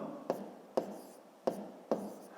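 Numbers written by hand during a fifth-grade long-division exercise, with four sharp pen-tap strokes spaced evenly, each trailed by short scratchy scribbling, close and fairly quiet with no talking.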